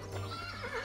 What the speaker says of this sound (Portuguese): Cavalo?